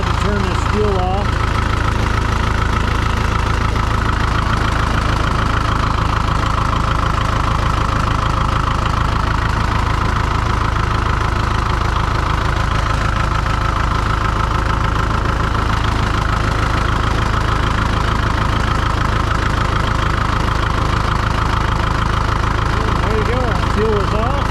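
A Farmall MD diesel tractor engine runs steadily after startup, a loud, close, continuous low rumble with an even idle throb and no breaks.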